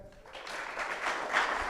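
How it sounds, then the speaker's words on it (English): An audience at an evening interview event with a rugby star gives a short, fairly distant round of applause, swelling briefly near the end. "round of applause for Stephanie."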